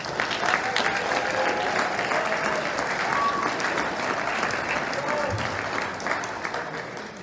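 Sustained round of applause from a banquet crowd honoring high school football players after their season, an even, continuous wash of clapping holding steady for several seconds with faint voices beneath.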